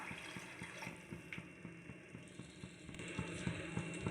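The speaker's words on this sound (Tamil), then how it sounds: "இப்போ இதில் வந்து நம்ம 2 டம்ளர் தண்ணி விட்டுக்கலாம்." Two tumblers of water poured into a pot of rice, splashing and trickling steadily, with faint clinks and a gentle, uneven rhythm close by.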